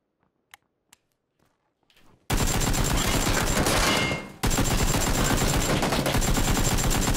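Loud, dense automatic gunfire from PUBG on the Miramar map bursts in after a couple of seconds of near silence and a few faint clicks, cuts out briefly, then resumes as sustained rapid fire.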